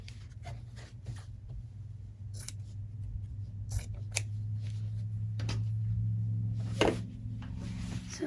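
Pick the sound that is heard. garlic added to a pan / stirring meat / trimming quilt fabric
trimming quilt fabric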